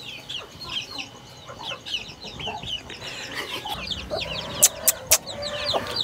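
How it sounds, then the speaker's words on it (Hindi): A black Shamo-breed chicken clucks in short, repeated bursts close by, with other fowl calling in the background and a few sharp knocks near the end. "ये ब्लैक, ये शामू नस्ल के अंदर है।"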